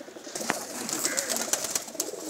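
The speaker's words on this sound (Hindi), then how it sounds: "इन्हों के कबूतर आई फ्लायर तुहानू दिखा रहे हैं" Pigeons coo on a rooftop loft in Khadriala village among a flock of high-flying birds, the soft calls blending into a steady bed of outdoor noise with a few brief sharper sounds.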